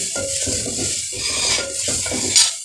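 Tomatoes and green chili paste stir-fried in a pan for aloo gobi, with repeated scraping and stirring strokes and a light sizzle, close and steady with no talk.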